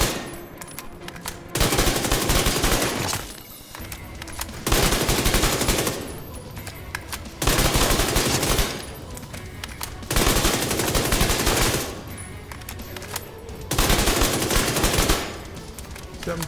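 Bursts of PP19 submachine gun fire in Division 2, five loud sustained volleys of roughly a second or two each, separated by short quieter pauses.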